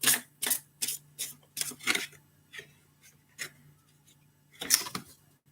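Tarot cards being shuffled by hand, a run of crisp riffling bursts in uneven rhythm with short pauses between them, close and fairly quiet with no talking.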